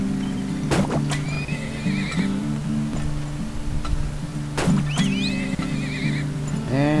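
Horses in the oil-drilling video game Turmoil whinny loudly twice, over steady clip-clopping hooves and a looping tune of game music.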